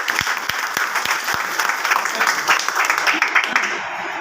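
A training-program audience breaks into applause, starting with a few loud distinct claps before settling into a steady crowd ovation with voices mixed in.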